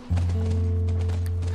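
Horse hooves clip-clop in The Last of Us over a loud, steady low drone. A few soft, uneven hoof knocks sit mostly under the hum.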